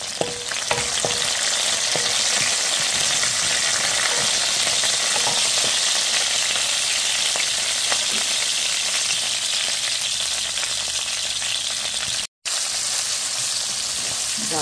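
Curry leaves sizzle in hot oil for a masala dosa chutney, a steady bright crackling hiss with scattered pops that runs unbroken for the whole stretch, close and fairly loud with no voices.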